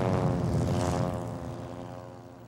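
An aerobatic propeller airplane drones steadily overhead with a buzzing engine tone, loud at first and slowly fading as it moves away, with no voices.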